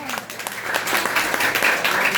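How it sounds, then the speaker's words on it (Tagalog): A church congregation claps together in a short, dense burst of many hands, rising quickly from a brief spoken moment into a sustained patter. "Palakpak sabay noon."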